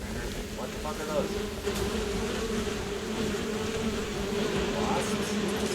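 Wasps in the video game Crimson Desert hum as a steady, close buzzing drone that holds without a break, with a voice faintly present underneath.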